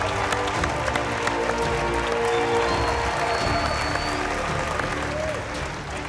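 Past MasterChef competitors cheer and applaud a finale contestant, a steady wash of clapping and crowd noise holding at an even level throughout with a few raised voices in it.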